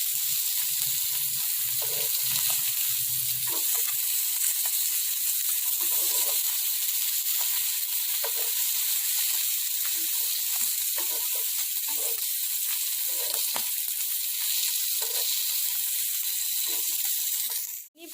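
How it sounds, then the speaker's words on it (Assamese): Fish pieces laid on a tawa over a low gas flame sizzle steadily and close up, a continuous hiss dotted with small pops and crackles that runs unbroken for the whole stretch before cutting off. "এনেদৰে মই গোটেইখিনি মাছ টেৱাত দি দিছোঁ"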